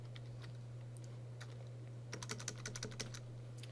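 Typing on a computer keyboard with no one speaking, at first a few sparse clicks, then a quick burst of keystrokes over a steady low electrical hum.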